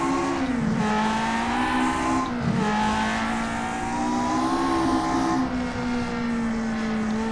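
A 1968 Lotus 49b race car engine drives in rFactor 2, with a loud, continuous, buzzing whine that holds steady, dips briefly a few times with gear changes or lifts, then climbs again.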